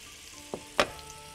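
Onions hit a hot pan and fry, giving two quick bursts of crackling sizzle over a faint, steady background hiss.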